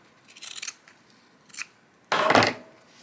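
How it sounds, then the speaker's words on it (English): Scissors snip through quilt fabric beside a seam in three separate cuts: two light short snips, then a louder, longer crisp cut at the end, close up with no talking. "So we will cut 1/4 inch"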